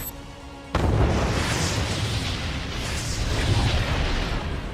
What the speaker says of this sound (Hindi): राष्ट्रपति पुतिन की धमकी के बीच रूसी सेना का विस्फोटक हमला जारी है।